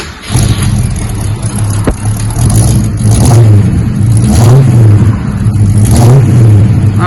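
A 1968 Mercury Cougar V8 with Magnaflow mufflers and a small exhaust manifold leak revs loudly in several strong surges over a rumbling idle, heard up close with no talking.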